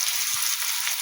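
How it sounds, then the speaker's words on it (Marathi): Finely chopped onion hits hot oil in a pan, giving a steady, close hissing sizzle throughout the brief moment with no voice. "पहिल्यांदा तेल गरम केलं, त्यामध्ये आपण घालायचा आहे बारीक चिरलेला कांदा."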